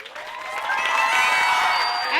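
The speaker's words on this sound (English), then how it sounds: "Give her a round of applause." Audience applause with cheering in a hall at a county Teacher of the Year award ceremony, a steady wash of clapping that swells and holds throughout, with whoops rising above it.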